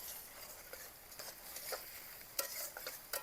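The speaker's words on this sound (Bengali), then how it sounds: "কাঁচা লঙ্কা আর টমেটো একটুখানি ভাজা ভাজা হয়ে যাক" Green chillies and chopped tomato fry in a pan for a bitter gourd dish, a faint low sizzle with soft intermittent stirring scrapes and a sharper clink near the end.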